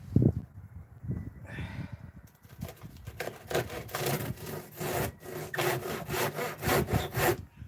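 A handsaw makes a vertical cut through decayed, rotting shed wood, its strokes rasping in a steady back-and-forth rhythm, close and fairly loud, with a faint rustle before the sawing settles in.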